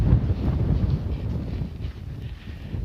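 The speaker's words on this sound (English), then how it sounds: "Oh, it's windy." Low, rumbling wind buffets the microphone in steady gusts beside a dirt road in Georgia, loud and close, with no voices.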